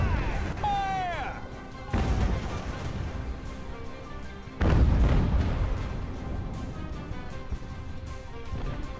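Cannon volleys fire in the naval video game Ultimate Admiral: Age of Sail, two heavy booming blasts with rumbling decay, following a brief shouted voice and whistling at the start.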